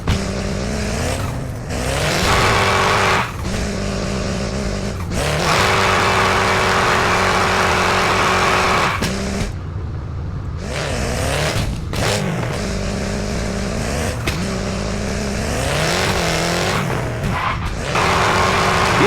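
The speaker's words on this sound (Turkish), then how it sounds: "Sonrasında duvar gibi nesneye çarpıp lastik yakıyoruz." A car does a burnout against a wall in the video game Car Parking Multiplayer 2, with loud sustained engine revving and tyre screech that drops out briefly a few times before surging again.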